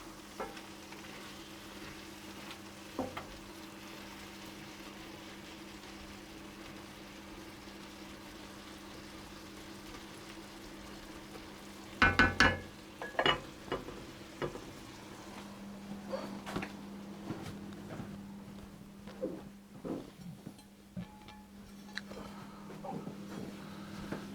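Ratatouille vegetables stirred in a pot, a faint low simmering hiss for a long stretch, then a cluster of scraping and clattering spoon strokes against the pot midway and scattered lighter knocks after, no speech.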